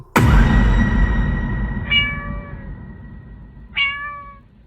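A cat meows loudly and close, then two more shorter meows follow at even intervals, fading slightly each time.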